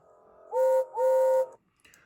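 A steam engine whistle from Thomas the Tank Engine sounds in two loud, clear blasts, each with a short upward pitch bend at the start and a brief gap between them.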